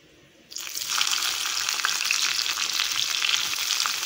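Sliced big onions and curry leaves drop into hot oil with mustard seeds for beans poriyal, a sudden loud sizzle that stays close and steady with crackling spatters.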